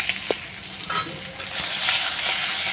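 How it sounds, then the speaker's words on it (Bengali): Onion, garlic and green chillies fry in a pan as they are stirred, with a steady sizzle, scraping strokes and a few sharp clinks of the utensil against the pan. "মাথাটা ভাজা করে আমি পেঁয়াজ আর একটু রসুন আর কাঁচা লঙ্কাগুলো দিয়ে দিয়েছি। এখন আমি নেড়ে চেড়ে নেবো"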